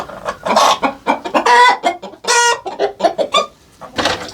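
Roosters in a village henhouse give busy, overlapping clucks and throaty calls, loud and close, with one crow-like cry in the middle of the racket.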